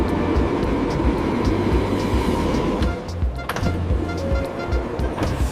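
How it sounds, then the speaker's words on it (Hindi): A metro train running on city rails rumbles and clatters loudly and continuously, with rhythmic wheel knocks and a few sharper metallic clicks partway through. "देखो मेट्रो"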